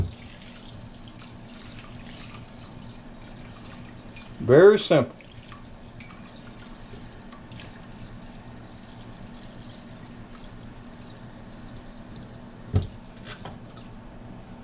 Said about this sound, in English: Going to run some water over it.